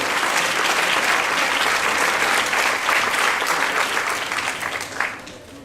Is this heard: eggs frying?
no